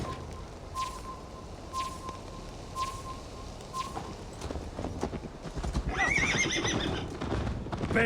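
In Assassin's Creed Valhalla, a horse's hooves clip-clop at a steady, rhythmic pace, close and clear. The hoofbeats quicken into a heavier gallop with a loud whinny near the end, and birds sound faintly in the background.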